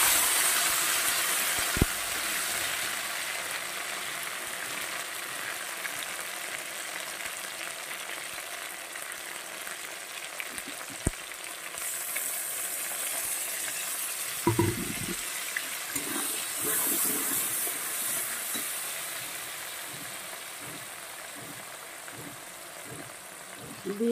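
Ground spice paste and tomatoes sizzle in a frying pan, a moderate steady hiss with a few clinks and stirring bumps, and faint sounds in the background.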